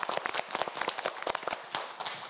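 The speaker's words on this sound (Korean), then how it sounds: "박수 한번 보내주세요" Studio audience clapping on a Korean quiz show, a brisk burst of many hands applauding at moderate distance, with no talking over it.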